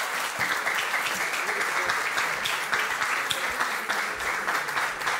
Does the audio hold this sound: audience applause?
yes